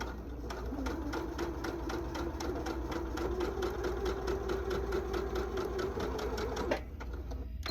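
A sewing machine runs close up, stitching corner to corner across a quilt block. It makes a fast, even, rhythmic needle clatter over a steady motor hum and stops abruptly near the end.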